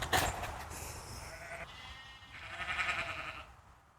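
Freshly shorn ewe bleats calling for her lamb outdoors, two loud wavering bleats in quick succession, fairly close, with no speech over them.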